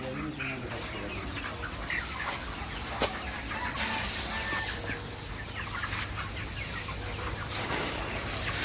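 Chickens in a multi-tier cage poultry farm cluck and chatter continuously, a dense steady flock sound with occasional louder calls and background hum.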